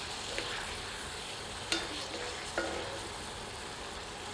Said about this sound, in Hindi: हम इसे तीव्र आंच पर 5 से 7 मिनट भूनेंगे ताकि मुर्ग के टुकड़ों की ऊपरी परत करारी दिखने लगे